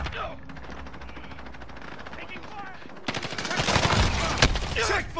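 Friendly fire in a military shooter game: rapid bursts of automatic gunfire crack close and loud, swelling into a dense fusillade after a quieter stretch, with a voice calling out over it.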